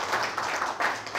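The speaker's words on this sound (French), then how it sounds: "Applaudissez pour le groupe Ikasugu." An audience applauds a winning team at a televised entrepreneurship competition, with steady, moderately loud clapping filling the short stretch and a few heavier bursts.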